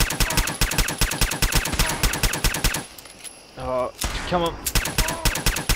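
Rapid automatic gunfire from a video game rattles in dense bursts, pauses briefly with a short musical chime and a voice speaking, then resumes firing.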